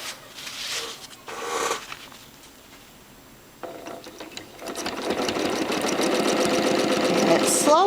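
A sewing machine stitches free-motion quilting with rulerwork on a Zentangle design, running in short bursts at first and then settling into a steady, fast, continuous whir in the second half.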